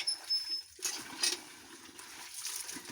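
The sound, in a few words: water being poured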